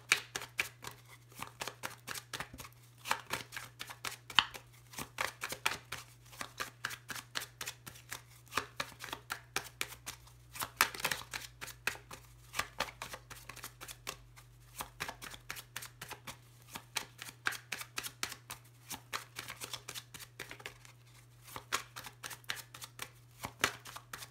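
Tarot cards shuffled over and over in a dense, steady run of riffling flicks and soft slaps, close and fairly quiet, with a constant low hum underneath and no voice.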